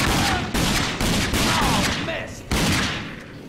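Gunfire in the first-person shooter video game Rage comes as a run of loud, rapid shots and bursts close up, with several hard onsets across a few seconds.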